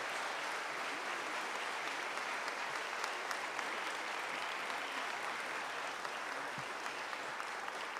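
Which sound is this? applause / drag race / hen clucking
applause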